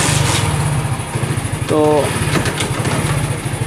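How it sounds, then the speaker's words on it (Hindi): A motorcycle engine idles with a steady low putter throughout, and a brief whine rises in the middle as it catches. Someone speaks briefly over the engine. "तो दोस्तों बाइक को स्टार्ट करके चेक कर लेते हैं"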